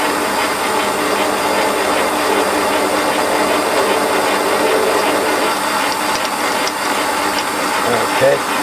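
A Warco lathe running with a small centre drill in a metal part, a steady close mechanical whir with light ticking, a brief clunk near the end and a voice speaking over it.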